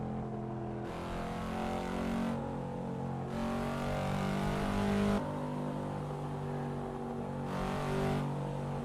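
Cadillac CT5-V with a turbo V8 in a driving sim game, revving and accelerating through several long surges separated by brief gear-change dips, with a steady loud engine drone throughout.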